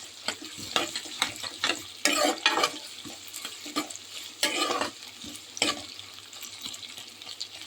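Egg, potato and green masala are stir-fried in a pan, with a continuous sizzle broken by repeated scraping bursts of the spatula in an uneven rhythm, close and fairly loud with no voices.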